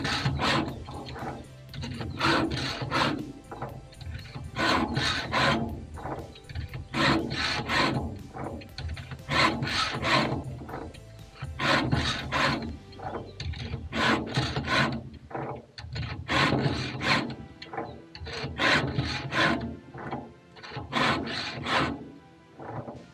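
A round file rasps steadily against a chainsaw chain's teeth in repeated short sharpening strokes, each a gritty scrape with brief pauses between, close and fairly loud.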